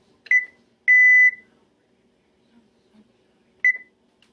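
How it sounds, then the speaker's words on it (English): A kitchen timer is set for a steak and potato dinner, sounding loud, clean electronic beeps: a short beep, a longer held tone, then after a pause another short beep, with near silence between them. "And I will set my timer"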